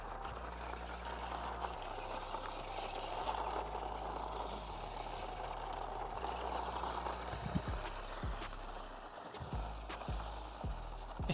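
A WPL D12 scale RC truck drives along with a small electric motor, giving a steady whir that steps up and down in pitch as the throttle changes, with light clattering near the end.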